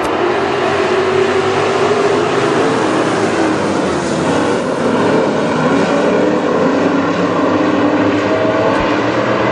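WISSOTA super stock race cars roar off together at the green flag at Granite City Speedway, a dense, loud, continuous engine drone filling the whole stretch without a break.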